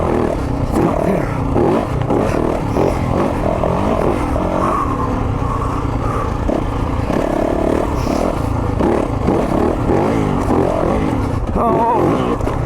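A 2023 Yamaha YZ450FX dirt bike engine revs hard and continuously while riding, a loud buzzing roar that rises and falls with throttle, with occasional voice sounds over it.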